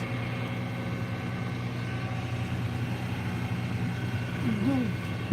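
Steady low engine drone of a farm tractor heard from inside the cab, a constant hum with faint voices and a brief squeak over it.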